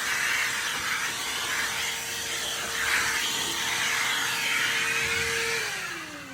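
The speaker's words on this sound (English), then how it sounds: "so I am just vacuuming the edge quick" A vacuum cleaner roars steadily up close inside a car interior, its tone wavering as the nozzle moves around the edges, then the motor pitch begins winding down near the end.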